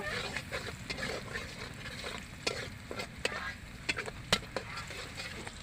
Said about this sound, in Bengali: পেঁয়াজটা আমার ভালো করে ভাজা হয়ে গেছে।